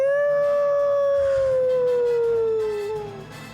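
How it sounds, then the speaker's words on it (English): A wolf in a frantic fantasy battle scene lets out one long, loud, mournful howl that slowly falls in pitch and fades toward the end, heard alone with no talking. "You hear a howl."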